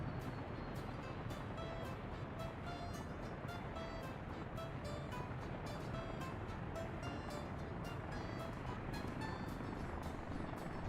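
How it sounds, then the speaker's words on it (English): Helicopter in the city-builder game Workers & Resources: Soviet Republic, a steady close rotor chop with rapid rhythmic blade thumps over a broad engine roar, continuous and even throughout. "a helicopter bringing in tourists from the western one"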